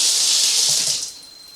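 Tap water runs steadily onto the bottom of a kitchen strainer held over a sink, a loud close hiss that softens and thins near the end.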